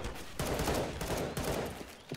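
Rapid bursts of automatic gunfire in the video game CS:GO on the Aztec map, a sustained rattling volley heard at moderate distance, fairly faint.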